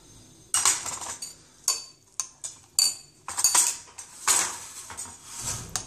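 Spoon clinking against a bowl while stirring spring onion raita made with red chilli powder and chopped tomato, a series of sharp, irregular metallic taps and scrapes close up, fairly quiet, with no voices.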